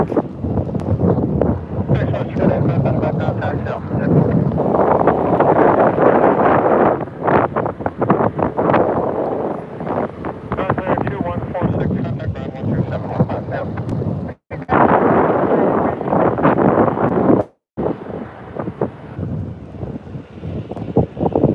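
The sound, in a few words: wind blowing at airport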